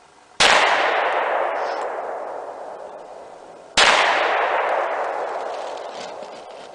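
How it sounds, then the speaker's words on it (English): Two sharp, loud .45 Super pistol shots fired with Buffalo Bore ammunition, each crack followed by a long echoing decay, a few seconds apart with no talking. "So let's take a few shots, 2 with the buffalo bore, and then the rest are the standard Federal 230 grain."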